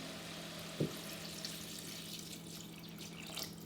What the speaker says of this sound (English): I'm gonna add two cup of water here